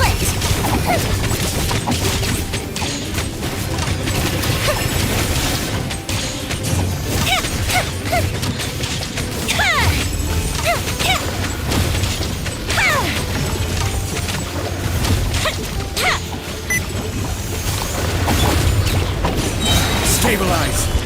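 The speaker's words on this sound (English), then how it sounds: "Here come the fireworks! Now the fuse is lit!" Fireworks bursts in the game Genshin Impact, dense crackling explosions and booms layered over continuous game effects and music, steady and loud throughout with talk mixed in.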